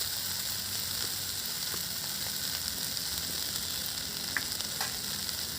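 Taro flowers frying with chili powder, stirred in a pan: a soft, even sizzle throughout with occasional faint scraping ticks, fairly quiet and with no speech.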